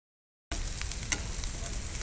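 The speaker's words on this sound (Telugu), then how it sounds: "సో ఆనియన్స్ యాడ్ చేసుకున్నాము. ఆనియన్స్ మంచిగా ఫ్రై అవ్వాలి" Onions fry in hot oil in a pan for a cucumber mutton curry, a dense steady sizzle that starts abruptly after a moment of silence, with one brief crackle and no talking.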